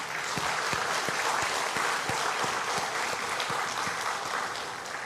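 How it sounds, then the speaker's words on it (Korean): Steady, moderately distant applause from a church congregation encouraging school students at a Thanksgiving service, continuous and even for several seconds, with a few louder claps standing out. "우리 교회 학교 학생들 위해서 격려의 박수 보내드립시다"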